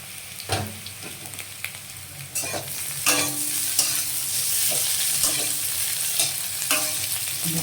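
Boiled chopped potatoes fry in a pan for chole kabuli with a loud, continuous sizzle. Repeated spatula scrapes and knocks against the pan come at uneven intervals, with no voices.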